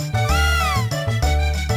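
A cat in the video game Chrono Trigger DS lets out a loud, close meow, rising and then drawn out, followed by a second shorter meow.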